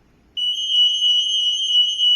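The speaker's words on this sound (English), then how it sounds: "it can detect and give alarm" An EAS anti-theft security gate sounds its alarm for a tagged item, a loud steady electronic tone that starts abruptly and holds unbroken for about two seconds without pause.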